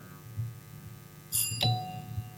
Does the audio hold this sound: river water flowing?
no